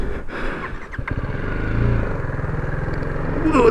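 BMW G310R motorcycle engine running while riding off-road, a steady single-cylinder drone with rising pitch and rumble throughout, close and fairly loud, with a voice briefly over it.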